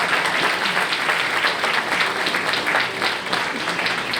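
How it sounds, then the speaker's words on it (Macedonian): An audience at a municipal campaign speech for the Centar council list bursts into sustained applause, dense and loud with even clapping that holds steady for the whole stretch. "Пак аплауз"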